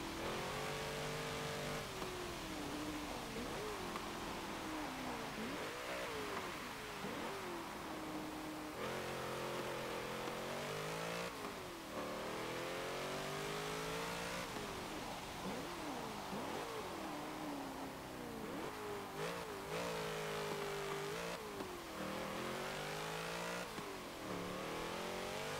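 A 1985 Nissan Safari Turbo engine in Forza Motorsport 7 roars loudly and continuously, repeatedly climbing through the revs and dropping at each gear change, with turbo whine and no voices.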